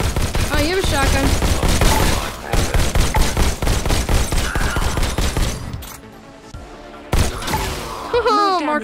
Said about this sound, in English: Oh, you have a shotgun.